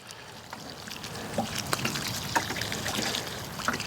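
Water trickles and pours steadily over soil around a rose plant, a continuous close splashing dribble with small drip accents and no talk.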